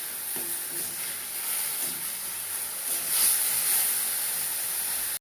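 Onion and two green chillies frying in hot oil for a fish curry, a steady close sizzle and hiss that runs throughout with faint stirring scrapes.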